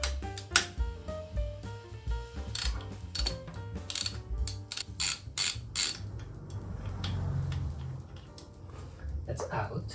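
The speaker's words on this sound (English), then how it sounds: "So I am going to loosen one of these bolts," A ratchet loosens bolts on a Harley FLSTNSE motorcycle in several quick bursts of sharp clicking, close by, with someone talking between the bursts.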